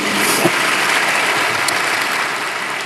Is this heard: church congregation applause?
yes